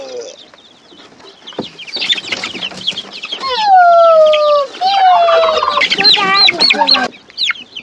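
Young chickens that hatched together, one still fluffy and another fully feathered, clucking and cheeping loudly and close, with rising and falling calls overlapping in busy bursts.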